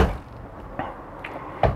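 A few soft knocks and a louder thump at the end, like a lit closet door being handled and opened, in a quiet room inside a 2020 Tiffin Allegro Red 37 BA motorhome.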